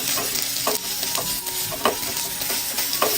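Spice powders, including garam masala, fry in a pan and get stirred, a constant close sizzle broken by repeated light scrapes and taps of the spoon.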